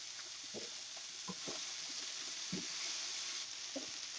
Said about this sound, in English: we'll continue to fry up our beef